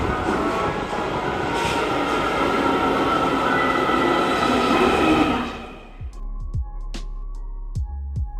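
A subway train in Japan rumbles loudly for several seconds, then slows and quiets, leaving sharp clicks and clanks of wheels and doors.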